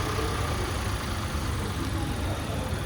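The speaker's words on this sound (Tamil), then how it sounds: "இதோட வைப்ரேஷன்ஸ் அண்ட் இந்த இன்ஜின் எவ்வளோ லவுடாக இருக்குன்னு சொல்லிட்டு போட்டிருக்கோம்" A Maruti Dzire's engine idles with a steady low rumble and faint vibration, heard at a constant moderate level with no one talking.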